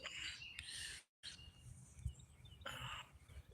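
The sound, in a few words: bluebird calling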